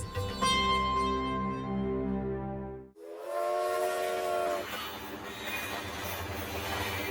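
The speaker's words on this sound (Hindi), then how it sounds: "रेलगाड़ी की छुक छुक आवाज में बीते हुए कल की धुन सुनाई देती है।" A steam whistle sounds for several seconds, then cuts to a steady hiss and rumble of a train in motion, loud and close.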